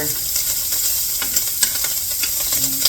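Food cooks in a hot pan with a constant, dense sizzle and a few faint ticks and scrapes on top, close and steady, with no voices.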